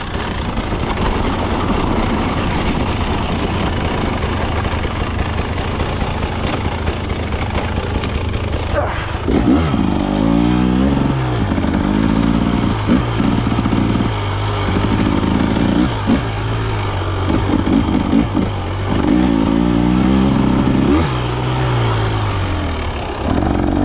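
A 2024 KTM 300 XC-W dirt bike engine revs and pulls hard in second gear without the clutch, up close, its loud rasping note rising and dipping in repeated surges of acceleration.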